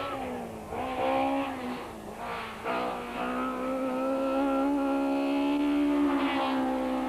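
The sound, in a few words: rally cars racing on a stage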